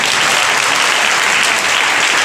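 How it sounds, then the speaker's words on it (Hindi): Loud, dense applause from a congregation at a Hindi Christian service, steady and sustained with no speech over it. "ताली बजा के"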